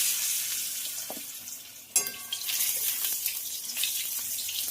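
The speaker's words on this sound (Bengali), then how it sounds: "দেখো, আলু কিন্তু একটু অল্প করে ভেজে নিয়েছি, ভাজা ভাজা হয়ে গেছে।" Potatoes fry in oil with cumin seeds in a kitchen pan, a close sizzle that jumps louder partway through as something is stirred in, then crackles and scrapes steadily on, with no talk.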